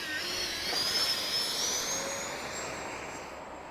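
Freewing 70mm F-22 Raptor RC jet with no flaps set, its electric ducted fan roaring steadily and rising in a whine as it accelerates down the runway for takeoff, loud and close, with no voices.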